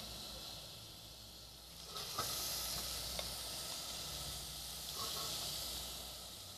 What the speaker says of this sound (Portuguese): Enquanto ele vai refogando aqui